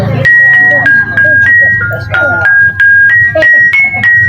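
A kulintang, the gambang xylophone of a traditional Javanese gamelan, played in a steady run of struck notes with bright bell-like tones over a loud, busy background with voices.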